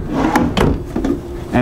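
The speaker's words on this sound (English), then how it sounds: "These are pull-out drawers." Pull-out drawers in a 2018 Rockwood HW277 high-wall pop-up camper, with plywood decking, give a few short knocking and sliding bumps close by while a person talks.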